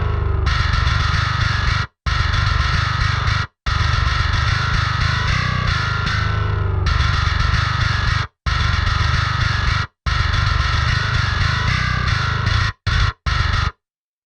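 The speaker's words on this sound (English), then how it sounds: "Here we have our main bass. This is Gin bass 2 by Submission Audio." Heavily distorted metal bass from the Gin bass 2 virtual instrument by Submission Audio, played in loud, dense chugging riffs with abrupt full stops and brief silences between phrases.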